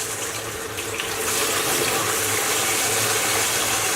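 Water pours steadily and loudly from a tap into a bucket being filled for an aquarium water change, a continuous close rushing splash with no talking.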